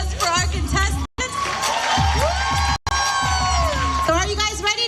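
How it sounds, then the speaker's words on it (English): At a live event, an audience cheers and whoops for contestants, a loud close crowd roar with shouting voices, broken by two brief cut-outs. "One final round of applause for our contestants"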